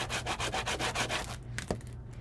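Paper being burnished down inside a handmade Disney-inspired mini album, a steady series of quick dry rubbing strokes up close, about a dozen in rhythm, then a few softer scuffs as it eases off.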